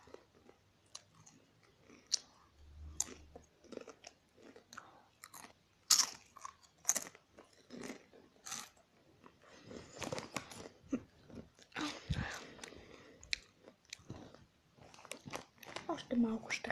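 Crunchy spicy food is chewed and bitten close up in irregular crisp crunches over a quiet indoor background, and a person talks in between bites.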